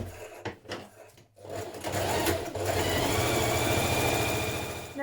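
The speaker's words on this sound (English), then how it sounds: "we're going to back tack again and continue stitching all the way down this seam." A domestic sewing machine stitches a knit dress seam. After a few stops and back-tack starts, it settles into a fast, steady, close mechanical whir that continues to the end.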